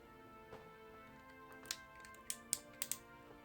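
Small ratcheting joint of a Soul of Chogokin GX-33 Spiderman toy figure clicking through several quick, crisp ticks, close and quiet, with a few sharper clicks toward the end and no talk.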